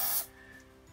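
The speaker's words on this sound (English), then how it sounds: "give it a bit of a spray inside these mechanisms" A short hiss of lubricant spray aimed into the seat lock mechanism of a Stokke Trailz stroller, one brief burst at the start that cuts off quickly, leaving quiet room tone.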